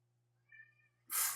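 A cat lets out a single brief, close meow, followed by a sudden burst of hissing noise at the end.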